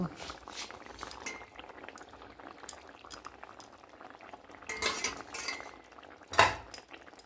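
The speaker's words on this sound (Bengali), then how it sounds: "আরও ফুটবে, এখনও সেদ্ধ হয়নি" Kohlrabi, potato and katla fish curry bubbling in a pot, a soft continuous simmer broken by a few metallic clinks of a spoon against the vessel, louder near the end.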